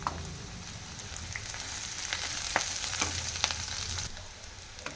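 Onions, cashews and curry leaves frying in a tablespoon of oil in a pan, a bright close sizzle with stirring scrapes, heard alone until it drops off near the end.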